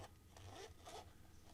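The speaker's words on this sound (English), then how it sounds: "That's a smooth zipper, real smooth." A smooth zipper slides around the case of an iFi Go pod Air Bluetooth adapter for in-ear monitors, a soft close rasp in a couple of quick strokes, quiet and alone.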